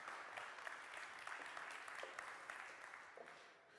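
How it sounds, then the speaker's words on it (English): Conference audience at an offshore wind energy forum applauds steadily for a panel moderator, a dense even patter of many hands held for a few seconds before tapering slightly at the end, fairly quiet overall. "A big round of applause for Carina, please."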